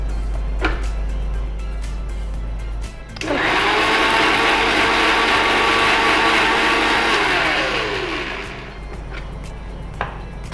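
A kitchen mixer grinder whirs loudly for about five seconds as it grinds grated ingredients for a Karnataka-style stir-fry, starting abruptly and winding down with a falling pitch, alone without talk.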